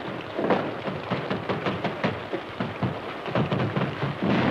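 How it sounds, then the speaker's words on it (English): Steady heavy rain pours down with a dense, hissing patter, a continuous downpour with no voices over it. "Holy smokes, it's raining."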